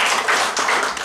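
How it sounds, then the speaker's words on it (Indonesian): A church congregation applauds, a dense, loud wash of clapping hands filling the room briefly with no voices over it. "Tepuk tangan yang dahsyat buat Tuhan"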